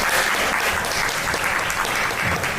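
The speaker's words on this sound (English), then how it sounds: "round of applause to the amazing dancers." Applause for dancers at a Friday social gathering, dense sustained clapping from an audience filling the room at steady volume.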